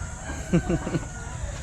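A rooster crows in a short burst of three or four harmonic notes, moderately close, over low background noise and a faint murmur.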